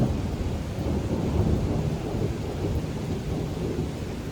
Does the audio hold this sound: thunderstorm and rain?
yes